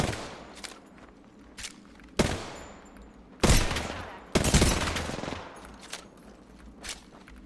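Apex Legends gunfire erupts in repeated bursts of automatic fire, with sharp cracks and longer loud volleys standing out over a low, steady background, and no talking.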